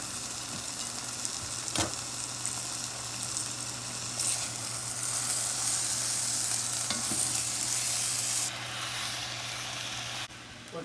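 Meat and its drippings are returned to a hot pan for birria, with a continuous loud sizzle and steady stirring, a sharp clatter early on and a brief dip near the end, with no speech.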